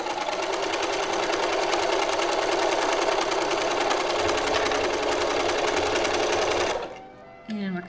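A sewing machine runs a straight seam, a loud, steady, fast mechanical whirr that holds for several seconds and then stops, followed by a short quiet handling sound.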